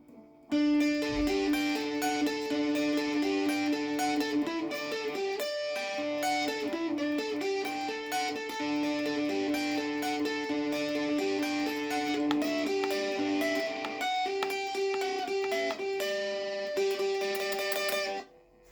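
Distorted electric guitar plays a quick, repeating melodic riff at moderate volume. It continues unbroken for most of the time, then cuts off abruptly.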